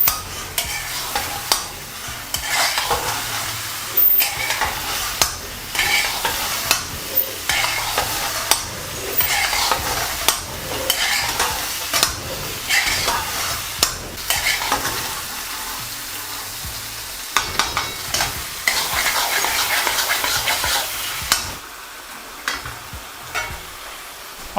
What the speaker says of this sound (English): Really fry up the lamb properly.